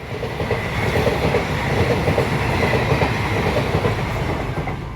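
A train runs through Udhna railway station in Surat, giving a steady, loud rumble with rhythmic wheel clatter throughout and no talking.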